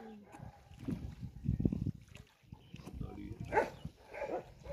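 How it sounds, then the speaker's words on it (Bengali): Dogs kept at houses in a floating village bark and whimper from a distance in short irregular bursts, faint and mixed with other low background noise. "কুকুরগুলো দেখতেও মারাত্মক হিংস্র গো।"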